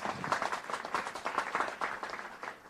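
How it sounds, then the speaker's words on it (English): Crowd applause with scattered cheering at a festive Sukkot evening gathering in a sukkah, steady clapping sustained near and fairly loud for a few seconds. "Give that a big round of applause."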